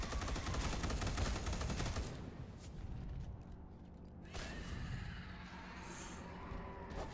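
Close-quarter gunfire in the video game Space Hulk: Deathwing, a dense rapid burst of loud shots for about two seconds, followed by scattered heavier impacts, mechanical clanks and whooshes.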